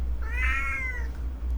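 A single cat gives one clear, drawn-out meow that rises and falls, close by indoors, over a low steady background hum with no talk.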